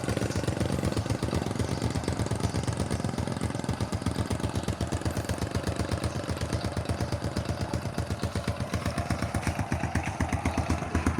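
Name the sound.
Honda Dream 100 motorcycle engine running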